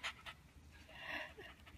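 Short, close panting from Cookie, a cheerful dog fresh from a walk: two quick breaths, then a longer breathy huff, heard on its own.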